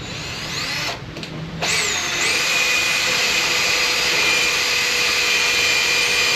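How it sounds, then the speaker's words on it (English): A power drill bores through new wooden bunk boards on a Champion boat trailer under repair, a loud steady whine that dips briefly near the start, then runs continuously close by. "I'll drill them all the way through"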